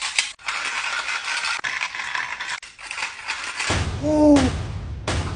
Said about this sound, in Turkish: Kalem tıraş makinesi mi? Evet, hem de en iyisinden.